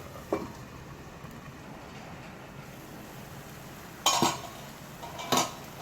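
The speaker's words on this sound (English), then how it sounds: "Let us cover and cook it for some time." A metal lid clinks onto a pot of tomato puree gravy for paneer tikka masala with a couple of sharp close clatters over a soft simmering background.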